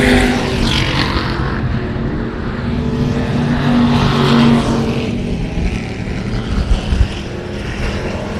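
Race cars running laps at Texana Raceway Park during a regular race program, a loud continuous engine roar that swells and fades as the cars pass, with a brief rattle near the end.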